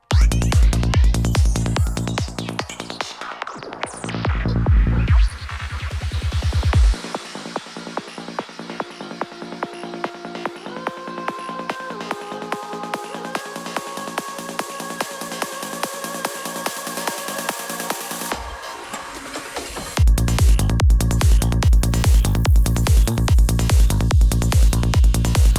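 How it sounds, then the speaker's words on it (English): Psytrance drop transition built from glitchy, stuttering synth chops treated with delay and chorus: pounding full-band beats break into a sparse sustained tonal passage, then the dense driving drop slams back in loudly near the end. "And that is how you make those kind of complex, glitchy sounding drops."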